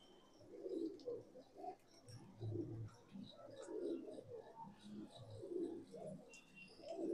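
Pigeons for sale, including Madrasi, Punjabi, Malwai, desi and gola breeds, coo repeatedly in low throaty bursts close by, several birds overlapping in an uneven rhythm with no talking.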